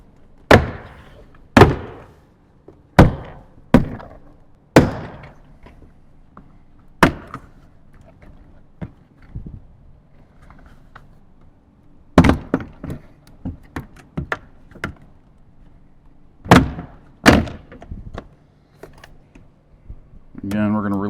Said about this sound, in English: Now we can grab the door panel off.